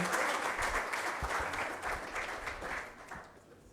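Audience applause fills a closing ceremony hall for a child labour survey results presentation in Cabo Verde, dense and steady throughout before tapering slightly at the end, with faint voices underneath.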